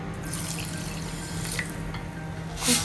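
Water is poured onto sugar in a pan to make marshmallow syrup, a soft steady trickle close by that ends in a brief louder splash near the finish.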